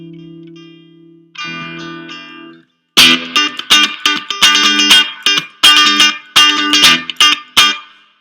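Electric guitar on an ordinary Telecaster-style three-way pickup setting, opening with a couple of sustained low notes and then bright, twangy strummed chords in a choppy rhythm with a slight echo, played alone.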